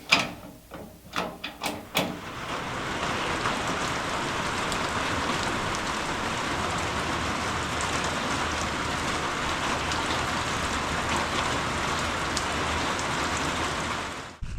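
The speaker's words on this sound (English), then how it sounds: "it has rained for about 48 hours. Pretty hard." Heavy rain pours steadily after about 48 hours of hard downpour, a dense, even hiss of drops on surfaces lasting throughout, preceded by a few sharp knocks and clicks at the start.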